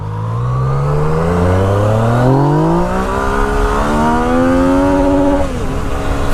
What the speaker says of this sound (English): Let's just see what first gear takes us to.